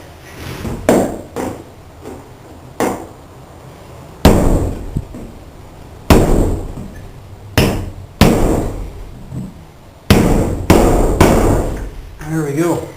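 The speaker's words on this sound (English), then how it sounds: "Now I'm just going to have to give this a couple whacks from the top and hopefully it'll pop out." Heavy hammer blows strike a steel trailer frame to knock it loose, about a dozen sharp metallic whacks in uneven bursts with pauses between, loud and close.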